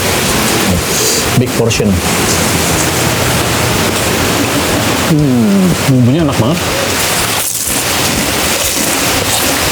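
Steady rain falling outside a forest cabin at Dusun Bambu in Lembang, a constant loud hiss throughout, with people talking over it during a meal.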